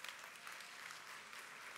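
An audience applauds at a spring districtwide college convocation, dense steady clapping from a large crowd filling the hall for nearly two seconds, with no voices over it.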